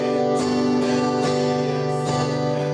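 A close acoustic guitar strums a pattern of one quarter note, two eighth notes and two quarter notes, with sharp, evenly spaced chord strokes ringing into each other, alone without any voice.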